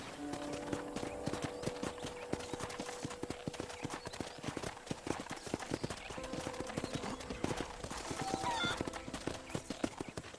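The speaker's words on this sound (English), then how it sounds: "let's see if you can still ride a horse" Horse hooves clip-clop steadily on a ranch in the Red Dead Redemption video game, a close, even gait with occasional whinnies and a low musical score playing underneath.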